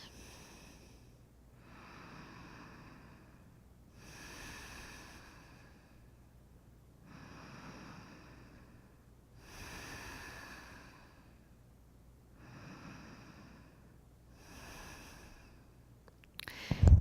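Slow deep breathing in a gentle beginner yoga class, about eight soft inhale-exhale cycles at a steady pace, close and quiet, with a brief knock at the very end.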